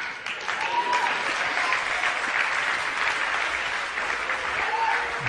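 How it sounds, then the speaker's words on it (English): Sustained audience applause during a church sermon, steady dense clapping from a large crowd that holds for several seconds at moderate volume with no voices on top. "Clap."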